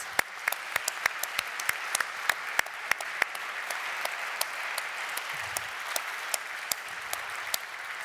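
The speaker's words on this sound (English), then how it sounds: "a big applause" Applause from the audience at a forum panel session, a thin scatter of sharp individual claps heard from a small crowd, steady and moderately quiet throughout.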